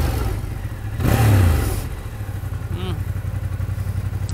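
A 2016 Ducati Monster 1200 R motorcycle idles with a lumpy, throbbing pulse, gives one sharp rev that swells and falls, then settles back to a steady close idle.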